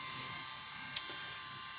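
A small wiper motor drives a brass tumbler used for cleaning reloading ammo cases, giving a steady, faint electric hum and buzz with one tiny click partway through.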